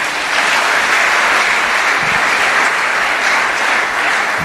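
A church congregation applauding together to acclaim the Lord, a dense, loud, sustained wash of clapping that fills the whole moment without pause.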